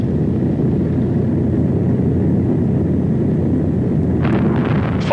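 A WWII bomber's engines drone in a steady, loud, low roar as the plane banks steeply, with a brief higher rushing swell near the end.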